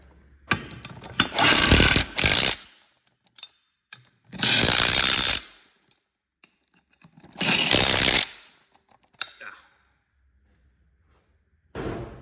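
Power tool, likely an impact wrench, driving a chrome socket on the lug nuts of a 1958 Plymouth, in three loud close bursts of about two seconds each, separated by quiet pauses with faint clinks.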